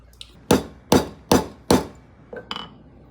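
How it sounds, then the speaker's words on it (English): Card table hinge hardware being hammered into a demilune table: four sharp, ringing metallic clangs at a steady beat, close and loud, followed by a couple of lighter clinks. "you're pounding away on hardware you just bought"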